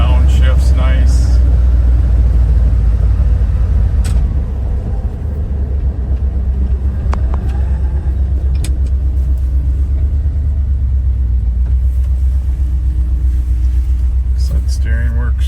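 A 1977 Ford F150 pickup drives with a deep, loud engine rumble close by, its pitch dipping and rising as gears change, while someone talks intermittently over it.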